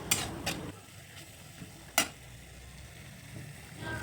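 Onion, ginger and garlic paste with cumin stirred in a frying pan: a few light scraping clicks of the utensil against the pan over a faint, steady sizzle, fairly quiet and with no talking.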